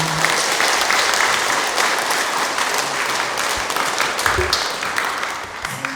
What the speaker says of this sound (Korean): 큰 격려의 박수 부탁드립니다